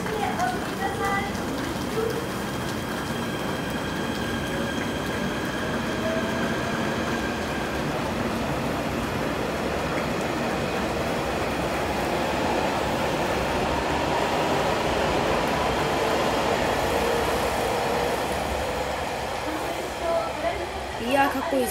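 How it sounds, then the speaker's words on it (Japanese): A commemorative train rumbles and hisses as it pulls away from JR Matsuyama Station, a broad steady roar swelling then easing, with a crowd murmuring around it. "ただいま記念列車が出発いたしました。"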